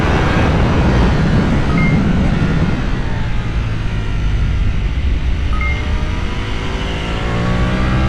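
Yamaha R1M superbike ridden hard on a race track with a V4-style engine note, a loud continuous roar with broad engine rumble that eases slightly midway and then holds steady, no talking.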